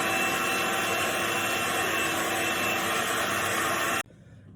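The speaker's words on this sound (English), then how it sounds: "we're now just going to whisk this up until we get some firm peaks" An electric whisk whips meringue toward firm peaks for gluten-free lemon poppy seed muffins, making a loud, steady motor whir that holds evenly for about four seconds before cutting off abruptly.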